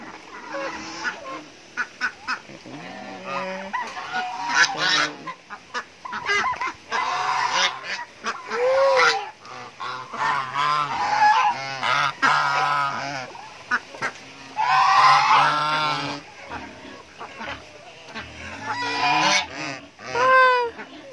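Geese on a small farm honk repeatedly, loud and close, in a busy overlapping chorus of nasal calls with brief pauses, and no clear talk over them.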